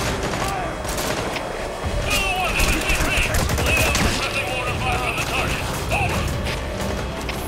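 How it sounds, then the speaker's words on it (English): Enemy gunfire in Metal Gear Solid V: The Phantom Pain during an online FOB infiltration, with repeated bursts of shots and mechanical clatter running through a busy, continuous game soundscape, with voices speaking over it. "These guys are proper shooting at me."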